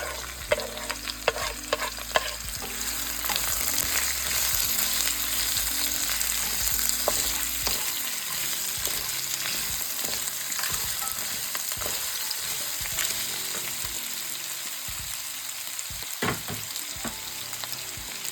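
Spices and three roughly cut large onions fry in a pan for restaurant-style paneer lababdar, giving a continuous close sizzle with frequent scraping and clinking stirs and no speech.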